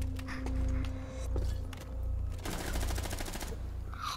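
Bursts of automatic gunfire in the shooter game Rainbow Six Siege, with a longer rapid rattling volley in the second half over a low rumbling background.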